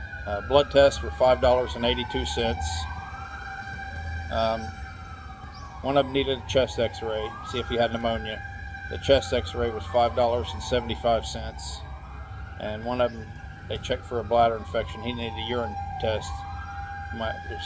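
Fire truck sirens wail steadily in repeated rising and falling sweeps as they pass by, clearly audible under someone talking continuously close up.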